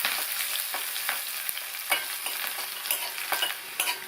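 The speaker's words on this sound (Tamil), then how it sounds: "வெங்காயத்தை கொஞ்சம் வதக்கிக்கணும்." Ten large-cut small onions sauté in a pan, a steady close sizzle with repeated scraping stirs every half second or so, no voices.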